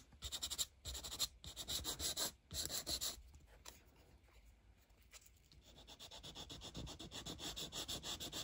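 Hand sanding of stamped craft labels and tickets, a steady close rubbing and scratching with quick back-and-forth strokes that pause briefly, heard alone without talk.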